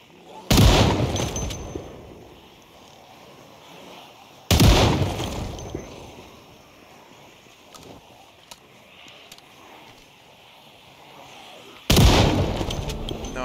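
Three loud, booming shotgun blasts go off in Project Zomboid, spaced several seconds apart. Each has a sharp attack and a decaying tail, and the gaps between them hold quieter game noise.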